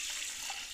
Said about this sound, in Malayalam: ഇളക്കിയിട്ട് നമുക്കതിലേക്ക് ആവശ്യത്തിന് വെള്ളം ഒഴിച്ച്